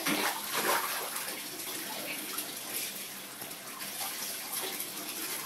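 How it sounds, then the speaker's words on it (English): Water in a bathtub drains with a steady, close rushing and gurgling wash that holds level throughout, with no talking over it. "He's draining the water."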